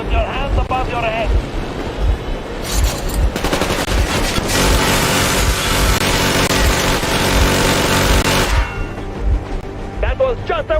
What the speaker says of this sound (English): That was just a warning. If you do not comply, we will shoot to kill.